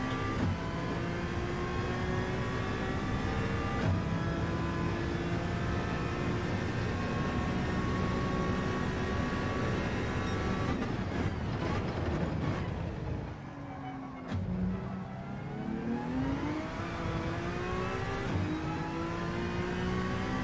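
A Honda NSX in the Gran Turismo 7 video game holds a loud, steady engine drone at high revs, with gear shifts, a brief dip and recovery as it brakes and accelerates again, and no talking.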